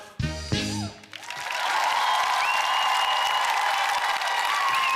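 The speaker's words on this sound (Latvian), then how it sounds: "Aplausi varanajām lielvārdas bites." Applause from an audience for the Lielvārde choir performing the song "Bitītes", a steady wash of many hands clapping that rises after a brief sung ending and holds loud and dense to the close.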